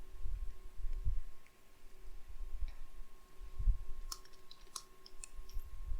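Several sharp computer keyboard key clicks near the end, including presses of the Enter key, come as brief taps over low rumbling handling noise and a faint steady electrical hum.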